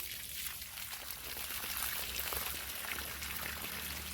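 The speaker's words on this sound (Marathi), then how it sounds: "पाणी देते झाडांना" Water is poured onto grapevines in a vineyard, a faint, steady rushing splash that holds evenly throughout with a low hum beneath.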